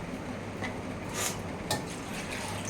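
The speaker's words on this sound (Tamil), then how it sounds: "இன்னும் கொஞ்சம் தண்ணி ஊற்றிக்கலாங்க." Water is poured into a simmering meal maker (soy chunk) gravy with ground masala, a soft steady liquid pour with a couple of faint clinks from the pan, no talking.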